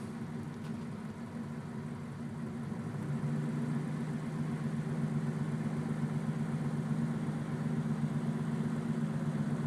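A 1941 Cadillac convertible engine idles smoothly, a low steady hum that firms up slightly after a few seconds, heard close and continuous without talk.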